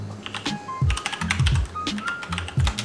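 Typing on a computer keyboard, close and clear, with irregular bursts of key clicks and occasional heavier thumps like the space bar, heard alone without talk.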